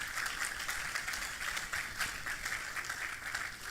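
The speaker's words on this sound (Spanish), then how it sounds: "Puedes darles aplauso al Dios de nuestra naturaleza" A church congregation applauds during a sermon broadcast, sending up a steady, fairly soft wash of many hands clapping together, with no voices over it.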